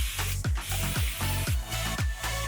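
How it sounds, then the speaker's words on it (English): Rapid repeated hissing bursts of a water mister, about five pumps in quick rhythm, each a close, airy spray blending into near-continuous mist. "it's like a continuous spray"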